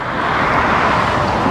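Busy car traffic rolls along a Jersey City street in the West Side neighborhood: a steady, loud, continuous road roar with no voices over it.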